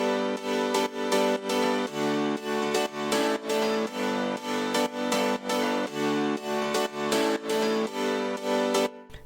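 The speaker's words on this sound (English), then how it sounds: "So I used 4 pianos here." Four layered pianos playing a rhythmic chordal pattern in the drop of an electronic remix, steady pulsing repeated chords with sustained bright tones, full and loud throughout.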